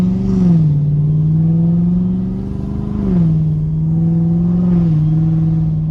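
A Chevrolet C7 Corvette V8 engine revs steadily with a deep, loud exhaust drone, rising and falling in pitch a few times before settling.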